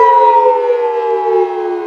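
A long, loud synthetic siren wail from the Siren Head creature in an indie SCP horror game, a single sustained tone that slowly slides downward in pitch, alone with no talk.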